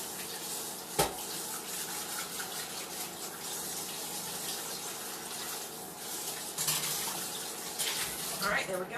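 A pan is rinsed under a running kitchen tap, giving a steady rushing spray with a few sharper splashes and clanks, moderately close, with a voice talking over it.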